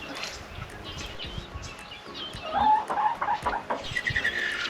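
Loamy Brown laying hens explore a newly built chicken house, giving soft clucks and a few higher squawks and chirps amid faint rustling. The calls are close but quiet and get busier toward the end.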